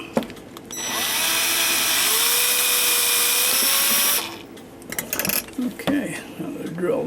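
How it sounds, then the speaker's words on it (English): Power drill boring out holes in the brass plates of a New Haven tambour mantel clock: a loud, steady high whine lasts about three seconds, then stops, followed by small clicks and handling noises of the workpiece. "now they're drilled out"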